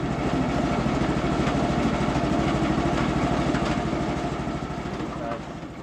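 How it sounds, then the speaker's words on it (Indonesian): A coffee peeling machine in a village separates coffee beans from their skins. It gives a continuous rhythmic mechanical chugging, loud and close, that softens slightly toward the end. "kopi yang sudah disortir akan dimasukkan ke mesin pengupas untuk dipisahkan mana biji kopi dan"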